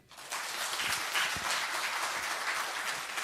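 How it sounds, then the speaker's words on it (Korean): A church congregation breaks into sustained applause during a Sunday worship service, a dense, even wash of many hands clapping that swells quickly and holds steady. "그럼 박수로 영광 돌려."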